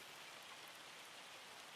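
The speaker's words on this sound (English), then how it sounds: "I told you that was hail." Hail falling in the video game Farming Simulator 25 gives a dense, even patter of countless small impacts, steady and soft throughout a short stretch with no voices.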